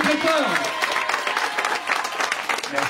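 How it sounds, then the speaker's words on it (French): A crowd applauds at a rally podium ceremony, steady dense clapping throughout, close and fairly loud. "Vous pouvez d'ores et déjà les applaudir très très fort"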